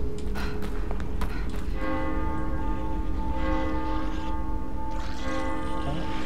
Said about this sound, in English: The bell. They're drawn to it.